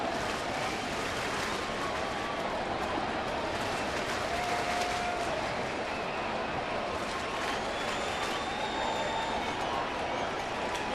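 Crowd noise at a St. Louis Cardinals home baseball game against Milwaukee, a steady broad roar of fans at Busch Stadium that holds level throughout without distinct peaks.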